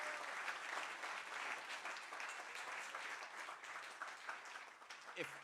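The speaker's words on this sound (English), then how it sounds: "a round of applause for our great speakers who helped us tonight" An audience at an evening talk on Ukraine's Antarctic research applauds the speakers with a continuous, even patter of many hands, fairly soft and distant, running several seconds before tapering slightly at the end.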